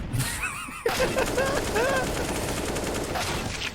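Gunfire from an MP9 in a CS:GO esports match in the lower tunnels: a sharp shot cracks out near the start of the clip, followed by ongoing game noise beneath steady excited play-by-play commentary.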